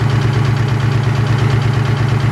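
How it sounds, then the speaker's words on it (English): A Mustang Cobra engine runs at idle after repairs to the intake and tensioner, a loud, close, steady rumbling throb with an even pulsing rhythm. "Finally able to get it running and idling long enough to see if everything works out with the tensioner"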